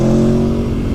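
A sports motorbike with a standard exhaust revs hard, a loud, steady engine roar with strong low harmonics holding for about a second, with no voices.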